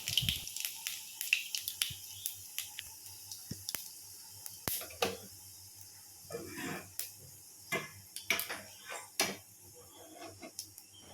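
Cooked dal poured into hot oil tempered with dried red chilli and fennel seeds, giving sharp, irregular spattering pops and crackles that come close and loud in clusters, then thin out.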